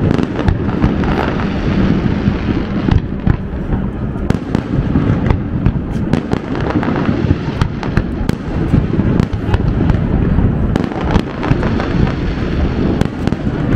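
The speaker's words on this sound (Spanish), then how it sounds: "aquí están tirando fuegos artificiales" Fireworks explode at night over the John Roebling bridge between Cincinnati and Kentucky during a game, in a loud, continuous barrage of booms and crackling bursts with no pause across the whole stretch.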